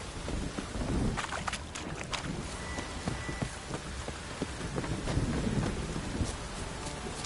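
Steady rain pours down with rumbles of thunder rolling through in the video game The Witcher 3, a continuous stormy wash with no voices.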